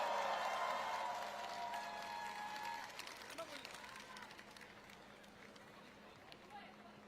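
Crowd at a political campaign rally claps to welcome a speaker, a fairly distant, moderate wash of applause mixed with crowd murmur and amplified sound that gradually tapers off into scattered claps and hubbub.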